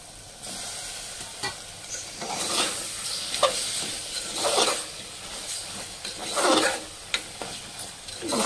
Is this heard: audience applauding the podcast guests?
no